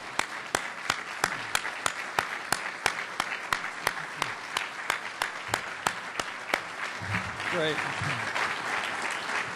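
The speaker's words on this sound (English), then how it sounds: "Let's give them a round of applause." A business forum audience applauds with a steady rhythmic pattern of sharp, loud synchronized claps at a regular beat, then looser crowd applause near the end as a voice speaks briefly.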